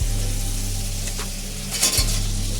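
Crab meets a spiced masala already fried down in a pan, a loud, close, steady sizzle with a low hum running beneath, then a brief burst of scraping and clatter as the pieces go in.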